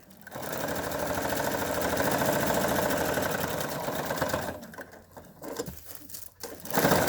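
A sewing machine top stitching fabric for a crinkle lap pad runs at a steady, rapid mechanical whir up close, then slows and stutters to a stop in short bursts near the end.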